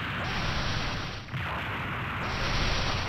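A Big Bang energy attack explodes in the Minecraft Dragon Block C Dragon Ball Z mod during a fight with Nappa and Vegeta, giving a loud, sustained roaring blast that fills the whole stretch with dense rumbling noise.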